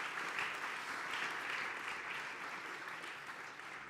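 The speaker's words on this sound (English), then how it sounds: "Please a warm round of applause." Sustained audience applause during a panel session at the ESTEC Open Day, a steady, dense wash of clapping from a sizable crowd that holds evenly throughout without fading.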